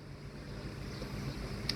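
An 18-inch solar-powered electric fan running on a 12-volt battery blows hard, giving a steady, even broadband whoosh of moving air close to the microphone, unbroken for the whole stretch.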